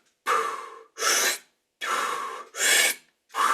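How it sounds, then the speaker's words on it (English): Circular breathwork with audible mouth breathing: four or five strong, rushing breaths alternating in and out in a steady rhythm, close and loud, with short silent pauses between and no talking. "typically we'll breathe in through our mouth. So we'll do like a circular breathing pattern."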